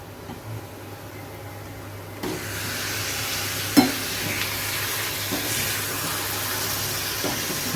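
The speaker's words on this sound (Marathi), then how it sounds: "आपण मॅरिनेट केलेलं कलेजी फेटा आपण त्यामध्ये घालून घेणार आहे आता" Marinated chicken liver fry hits hot oil in a pan and sizzles steadily, a broad hiss rising sharply about two seconds in, with a few stirring clicks and scrapes as it keeps frying, no voices.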